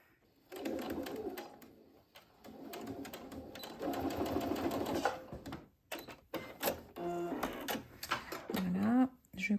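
Sewing machine stitching a small 0.5 cm seam on bias tape laid right sides together, running in several bursts of steady whirring broken by short pauses, close and clear.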